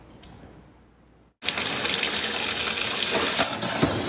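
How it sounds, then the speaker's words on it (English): Tap drinking water rushing from a faucet, contaminated with gas from nearby drilling; after a quiet second a loud, steady broadband roar of flowing, igniting water fills the rest, with a sharp burst near the end. "This is video of somebody setting their drinking water on fire."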